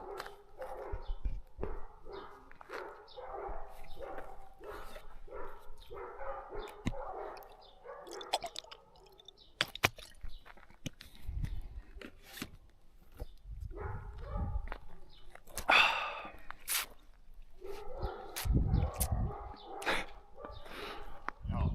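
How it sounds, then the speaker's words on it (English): Several dogs bark in repeated bursts outdoors, some near and some farther off, while people talk intermittently between and over the barking. "Dogs are barking, and there was one guy with a dog and now there's more dogs."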